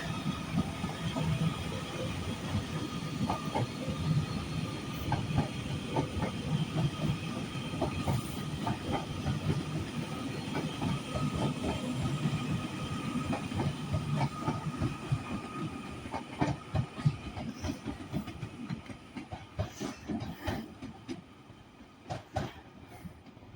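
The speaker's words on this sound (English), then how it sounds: "a Trans-Pennine Express service from Glasgow Central to Manchester Airport with one of their 397 units, 397003" A TransPennine Express class 397 unit, 397003, runs at Carlisle on a Glasgow Central to Manchester Airport service, with a continuous rumbling roll and rhythmic wheel clicks over rail joints, heard from a moderate distance and fading toward the end.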